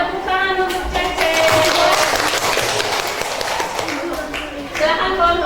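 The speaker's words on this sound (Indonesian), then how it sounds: "Ya, tepuk tangan untuk Cece." Classroom applause for a student after a presentation, a burst of clapping from a group of pupils lasting several seconds, close and fairly loud, with a teacher's voice over it.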